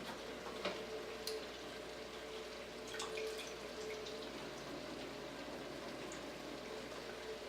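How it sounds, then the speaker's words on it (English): Water being poured into a cooking pot for navy beans, a steady soft liquid filling sound with faint drips and splashes, quiet and continuous with no talking. "right now I'm going to add our water, which is about 8 cups"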